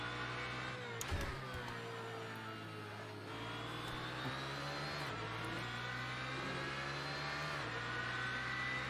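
A Nissan GTR GT3 race car drives in Assetto Corsa, its engine holding a steady loud drone with a few gear-shift dips and rising revs, near and continuous with no talk.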